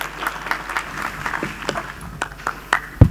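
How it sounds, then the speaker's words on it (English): An audience applauds at a startup showcase as the final presenter is welcomed, scattered distinct claps over a soft room murmur with a louder thump at the very end. "Can we give a round of applause, please,"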